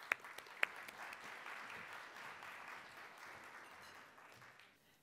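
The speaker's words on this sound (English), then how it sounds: "We can give her a round of applause." Applause for a speaker being welcomed onto the stage at a conference main-stage session: a faint, even wash of clapping from the audience, opened by a couple of sharp claps and fading out at the end.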